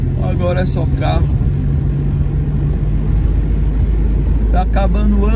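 A steady, close rumble of car traffic on a street in the East Zone of São Paulo continues throughout, with someone talking over the passing engines.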